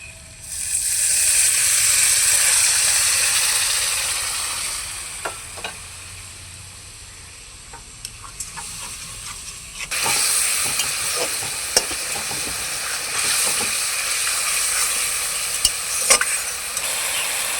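Chital fish with potato, shola kochu and spices fries in a pan while a spoon stirs it, giving a steady loud sizzle and hiss broken by scattered scrapes and knocks, with the sizzle swelling again halfway through.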